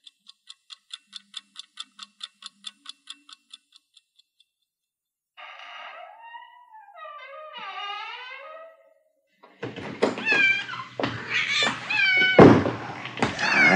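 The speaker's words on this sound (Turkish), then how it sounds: "Durup dururken neden vuruyorsun şu zavallı kedi?" A cat meows in several drawn-out, wavering cries, preceded by a clock's steady ticking and followed by busier, louder household noise with thumps.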